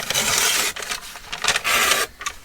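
Paper being torn off in a few quick ripping strokes, loud and close, with short pauses between the tears and no voices.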